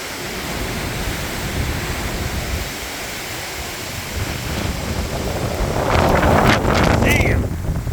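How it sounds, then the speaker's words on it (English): Strong gusty wind from Tropical Storm Debby in northern Vermont roars steadily into the microphone, building louder toward the end, with a brief voice in the rushing noise. "Windy, windy, windy."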